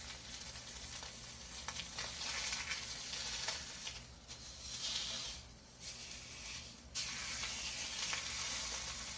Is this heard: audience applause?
no